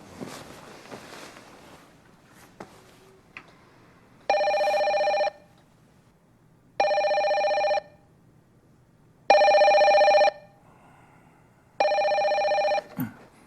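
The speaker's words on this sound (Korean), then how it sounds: "비몽사몽인 상태로 전화를 받아봅니다" A hotel room telephone rings a wake-up call in four evenly spaced, loud electronic bursts, each lasting about a second, with quiet room tone between them.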